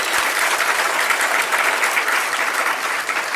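Sustained applause from a lecture audience at a Hindi religious discourse in Jabalpur, dense steady clapping filling the whole stretch without a break or voice on top.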